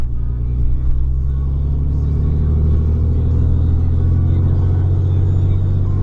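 Deep, steady diesel drone of a 6.7 Cummins truck breathing through a 4-inch exhaust with an MBRP muffler, rumbling continuously and fairly loud at light throttle on the road, with no talk over it.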